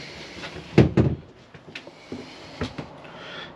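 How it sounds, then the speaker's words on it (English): A sliding door inside a 2023 Coachman Laser 545 Xtra caravan is pulled across and shut, giving a close, moderately loud rolling thump with a couple of lighter knocks and rattles that follow. "And you just close that sliding door across"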